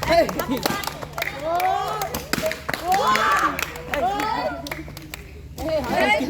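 Children clap in scattered bursts during a balloon game, with sharp hand claps mixed into lively overlapping children's voices and chatter throughout.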